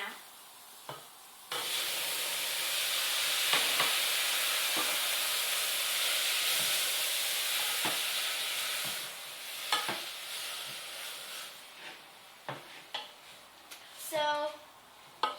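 Spinach and seasoning powders are stirred and fried in a pan. A loud hiss swells for several seconds, then thins into scattered scraping and clinking with short sizzle bursts.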